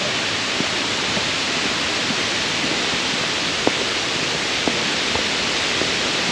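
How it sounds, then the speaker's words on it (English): Sable Falls, a 75-foot waterfall, roaring as a steady, broad rush of falling water, loud and close, with a few faint clicks over the constant wash. "And here's a waterfall."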